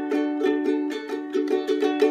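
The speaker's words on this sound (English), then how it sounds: "If your ukulele sounds like this, it means it's right." A ukulele is strummed on a basic chord in a steady rhythm of about eight bright, ringing strokes up close, with no talk.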